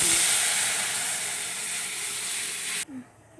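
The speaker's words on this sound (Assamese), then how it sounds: "এয়া পিঁয়াজটো অকণমান আমি ভাজি লৈছোঁ" Onion fries in a pan with ginger for Assamese dal, giving a steady loud sizzling hiss that fills most of the clip before cutting off abruptly near the end.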